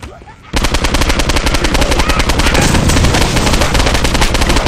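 Rapid automatic gunfire in the Postal 2 Apocalypse Weekend video game, breaking out after a brief quiet moment into a loud, continuous stream of closely spaced shots that runs for about four seconds.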